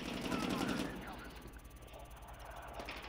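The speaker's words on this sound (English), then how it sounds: "We need to shoot that helicopter." A helicopter in the Medal of Honor Warfighter video game drones as a dense rotor and engine rumble, heavier at first and then easing under game noise, with faint distant gunfire mixed in.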